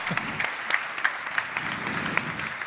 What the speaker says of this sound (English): Why don't we have another round of applause for our next brilliant host in Nepal?